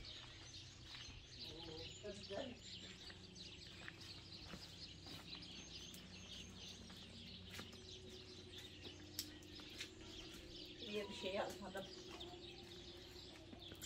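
Faint clucking and short bird calls come and go in the distance over a quiet, steady background hum, with soft voices now and then.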